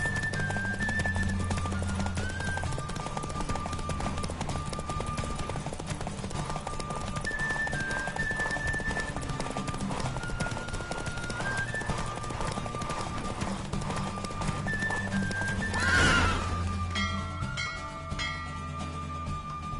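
A horse in The Witcher 3 gallops with rapid, continuous hoof clatter under a steady game soundtrack, and a loud whinny breaks out near the end.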